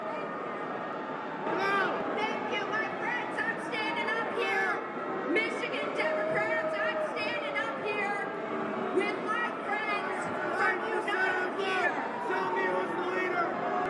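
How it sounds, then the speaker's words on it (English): A crowd at a Democratic Party event jeers and boos the party's establishment candidate, a dense, sustained wall of many voices rising and falling without a break. "They're booing the shit out of her."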